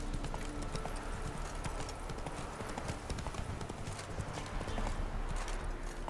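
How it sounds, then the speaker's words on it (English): Horse hooves clip-clopping in the video game The Witcher 3, a steady rapid trot of hoofbeats continuing throughout at low volume, with a faint whinny-like tone and no talking. "Hey, you stupid horse."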